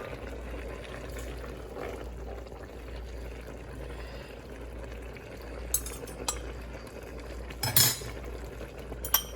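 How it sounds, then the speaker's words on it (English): Cooked collard greens and cabbage are scooped from a pot into a bowl, with soft wet shuffling and a few sharp metal clinks of a spoon against the dish near the end. "I'm gonna go ahead and scoop mine into this bowl here."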